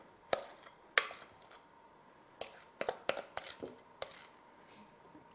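Red velvet cupcake batter being scraped into flour in a bowl, heard as a series of soft, close scrapes and knocks of utensil against bowl with quiet pauses between.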